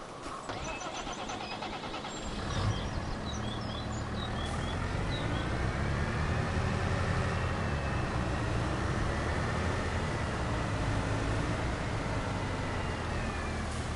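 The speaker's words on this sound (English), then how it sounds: "So let's bring the tractor over here for a second." In the Farming Simulator 25 game, a tractor engine cranks and catches after a couple of seconds, then settles into a steady, loud idle rumble that runs alone to the end.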